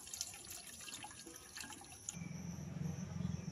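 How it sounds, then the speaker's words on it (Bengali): Rinse water drains off soaked flattened rice (chira), a soft trickle and splash that swells into a steadier close pour near the end, with no talking. "চিড়েটাকে প্রথমে একটু জল দিয়ে ধুয়ে নেব। এই যে একটুখানি রেখে আমি জলটাকে এবার ছেঁকে ফেলে দেবো।"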